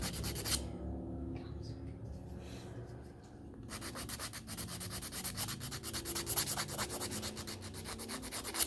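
A nail file rasps along the sides of a sculpted acrylic nail in quick, close back-and-forth strokes, pausing briefly before resuming at a steady scratchy rhythm, with no talking.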